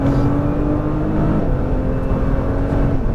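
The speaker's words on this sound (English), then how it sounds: "Full throttle for the straightaway." A Nissan GT-R on a racetrack straightaway at full throttle, its engine a loud, sustained roar mixed with whirring drivetrain and road noise, with no speech.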